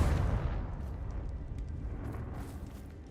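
A Confringo fire spell explodes in Hogwarts Legacy on PS4, a loud low boom that opens the clip and rolls into a sustained rumbling blast that slowly fades over several seconds.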